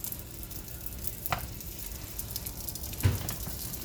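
Dried fish, tuyo, frying in a pan with a steady, fairly quiet sizzle, broken by two brief louder pops of spattering oil.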